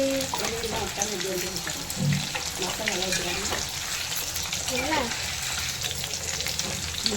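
Masala-coated chicken 65 or prawns frying in hot oil at home, a loud, close, continuous sizzle and crackle, with a voice talking briefly over it.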